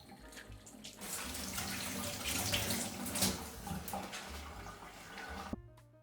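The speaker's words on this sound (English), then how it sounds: "So let's wash our veggies and put them on the tray." Vegetables for a roasted tomato and cheese soup, including onions, garlic and potatoes, washed under a running kitchen tap; a steady close stream of water splashes and gurgles continuously, then cuts off abruptly near the end.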